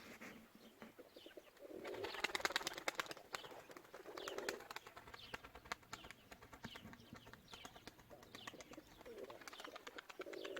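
Pigeons coo softly in repeated low, throaty phrases, with a few faint chirps and light rustling around them at moderate distance.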